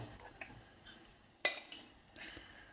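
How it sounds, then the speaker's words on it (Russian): Tofu with chopped onion and thickening paste is stirred gently in simmering broth. Soft scraping is broken by light clinks of a utensil against the pot, with one sharp clink midway. "Перемешиваю аккуратно"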